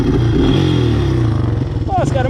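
A Honda 200X three-wheeler engine with a newly fitted muffler revs loudly and close, a throaty continuous drone that wavers and climbs near the end.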